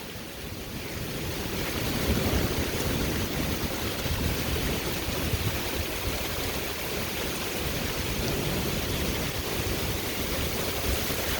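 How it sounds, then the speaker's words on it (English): Heavy, wind-driven horizontal rain pours steadily in an aggressive thunderstorm with high wind gusts, making a dense, loud, unbroken roar throughout. "Oh, there it goes again. Horizontal rain again."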